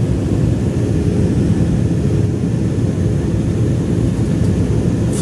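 Helvetic Airways airliner taking off from Zurich on an early morning departure to Ljubljana, a steady, loud broadband engine roar filling the cabin for the whole stretch with no talk over it.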